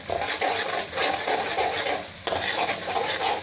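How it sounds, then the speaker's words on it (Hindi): An onion, garlic and ginger paste sizzles and crackles in a hot pan while being stirred, the frying hiss steady and close throughout. "अब हम इसको 5 मिनट के लिए थोड़ा सा फ्राई करेंगे।"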